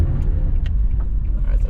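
A bus rumbles past on a Kingston street in a low, heavy, close pass that fills the whole stretch, with small clicks and rattles on top and no talk.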